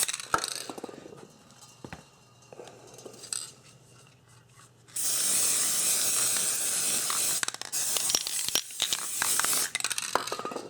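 Aerosol can of Rust-Oleum NeverWet coating sprayed onto shoes, a loud steady hiss starting midway and running several seconds, broken by short gaps and clicks, after quieter handling noises.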